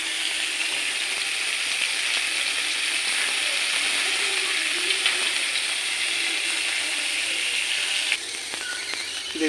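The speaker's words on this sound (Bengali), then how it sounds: "এবার আমি কাঁকড়াগুলো ভালো করে ভেজে নেব।" Sea crabs fry in hot oil in a home kitchen, a loud, dense, unbroken sizzle and hiss with faint scraping now and then.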